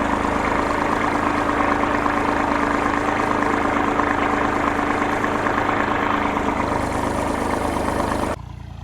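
A tractor engine runs steadily in a farm field, a loud continuous low rumbling drone with a constant pitch that drops in level at the very end; no voices are heard.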